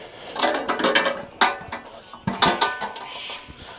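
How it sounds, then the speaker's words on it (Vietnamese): A stainless steel pot is washed at a campsite, giving a run of close metallic clanks, scrapes and knocks in irregular bursts, with brief quieter gaps between the sharper hits. "Rửa phía trên xong, lật ngược phía dưới lại rửa là ok."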